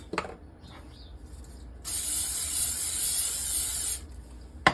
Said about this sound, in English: Let's spray our bowl here